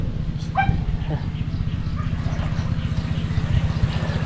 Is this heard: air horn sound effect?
no